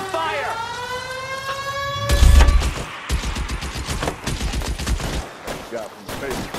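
Rapid gunfire erupts in a shootout in the crime video game L.A. Noire, loud bursts of shots rattling over a wailing siren, with voices shouting amid the fighting.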